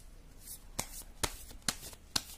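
Tarot cards being shuffled, with four or five crisp, sharp riffles spaced evenly apart over a quiet background.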